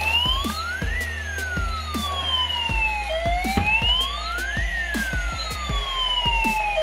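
Toy ambulance siren in a children's cartoon animation, a continuous rising and falling wail with regular clicking taps underneath, loud and close.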